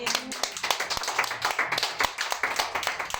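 Worshippers in a church clap for God in a loud, close, uneven patter of sharp individual hand claps, a smaller group whose separate slaps stand out with no voices over them.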